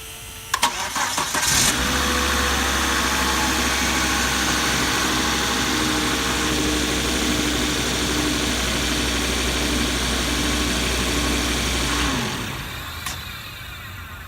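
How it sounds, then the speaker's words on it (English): A car engine cranks and catches after an oil change, then settles into a steady, even idle for about ten seconds before being switched off, with no talking over it. "We're gonna start the engine, let it run for just a few seconds here."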